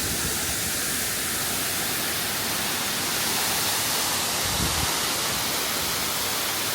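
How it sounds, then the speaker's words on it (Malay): The Esmeralda waterfall at Lake Toba makes a steady, broadband rushing hiss of falling water, even and continuous, heard without talk. "Kita dekat air terjun Esmeralda"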